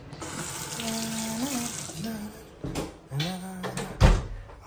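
Water runs steadily from a tap during handwashing, a continuous splashing wash with a clunk near the end, while people talk over it at close range.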